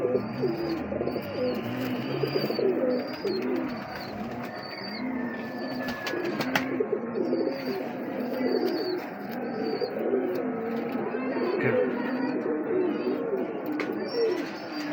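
Miyan Sahib breed pigeons cooing in a loft, repeated soft rolling coos overlapping close by, with occasional chirps and a brief flutter in the background.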